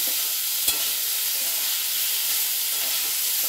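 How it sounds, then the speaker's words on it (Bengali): Chicken frying with vegetables in a kadai makes a loud, steady sizzling hiss that fills the whole stretch, with one brief knock early on. "চিকেনটাও এর সঙ্গে একটুখানি ভেজে নেব।"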